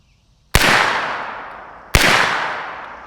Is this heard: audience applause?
no